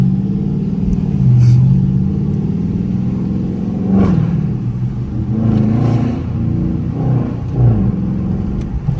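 Dodge Charger R/T pulling away from a city traffic light: a loud, deep exhaust rumble rising in several surges and revs, close and continuous, with no talking over it.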